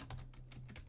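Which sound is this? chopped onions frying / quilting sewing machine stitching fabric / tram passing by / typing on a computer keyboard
typing on a computer keyboard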